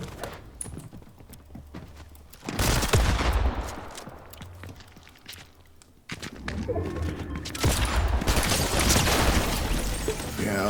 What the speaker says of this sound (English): I was missing all those shotgun shots